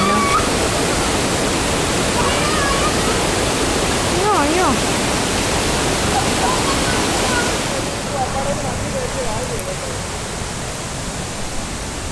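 A steady, loud rush of falling water fills the scene at Chengara waterfall in an estate area, with children's excited voices calling briefly over the roar.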